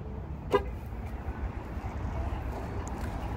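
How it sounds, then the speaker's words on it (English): A Jeep Grand Wagoneer luxury SUV gives a single short horn chirp as it is unlocked, sharp and fairly close over steady outdoor background noise. "So if I go ahead, close the door now, and unlock the car"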